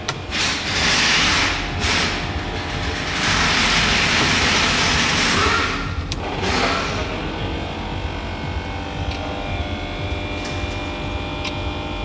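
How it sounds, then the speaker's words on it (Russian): Cooling fan of a ZAZ 968M Zaporozhets car runs with a steady, loud whirring drone that holds for about twelve seconds, its hissy airflow easing slightly toward the end, with no talking. "Вентилятор работает, а бензонасос не качает."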